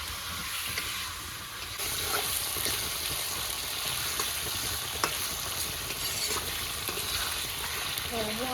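Boal fish frying in a pan with cumin, turmeric, red chilli powder and salt, giving a continuous sizzle with occasional stirring and scraping sounds.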